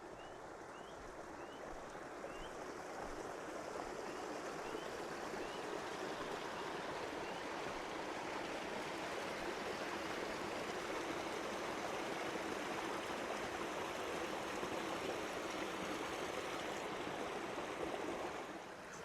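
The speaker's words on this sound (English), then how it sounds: "So let's go check out the spillway. And you can see it's really flowing." Water rushes over the spillway of a homestead pond after a storm, a loud, steady, unbroken flow that holds for the whole stretch with no voices.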